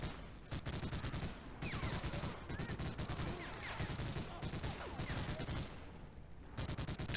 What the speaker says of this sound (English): if you use the machine gun,